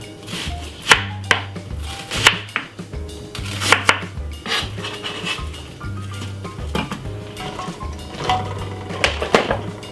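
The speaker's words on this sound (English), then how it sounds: "I'm gonna cut the white onion into round slices." White onion being sliced into rounds with a knife on a cutting board: sharp, loud chops in an uneven rhythm, each with a thud on the board, close up with no talk.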